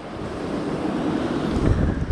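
Wind gusting across the microphone at a fishing spot, a constant loud rumbling roar that swells slightly toward the end, with no voices.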